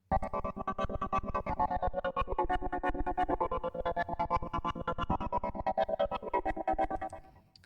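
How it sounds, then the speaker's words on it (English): A pulsing synth layer stacked over electric piano in a Digital Devil Saga style dungeon theme, with rapid, even repeated pulses running steadily for several seconds before cutting off at the end. "and then there's this pulsing synth as a layer."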